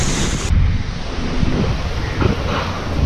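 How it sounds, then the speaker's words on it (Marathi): Strong cyclone wind gusting through Mumbai's Dadar area during rain, a loud continuous roar buffeting the microphone with steady rumbling low-end and no voices. "वाऱ्याचा वेग एवढा आहे की सध्या आपली छत्री उलटी होते"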